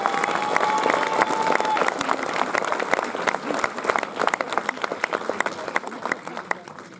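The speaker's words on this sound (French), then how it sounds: "Je vous demande de les applaudir parce qu'ils n'ont pas oublié." Audience applause at a concert in Plouha, a dense sustained clapping from a large crowd that starts loud and gradually thins into scattered claps, with some voices mixed in.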